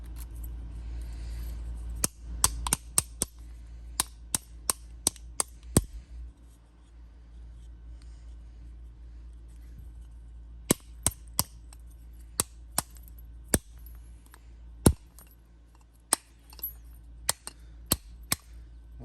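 A hammer taps on the plug of an older Yale residential lock, giving sharp, light, close ticks in quick clusters with a pause in the middle and steady low hum underneath.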